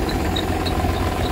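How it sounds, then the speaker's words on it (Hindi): A Farmtrac 45 tractor engine runs slowly at a steady low idle, loud and close, with a constant rumbling throb and no talking. "बिल्कुल ट्रैक्टर पूरी स्लो पे चल रहा है"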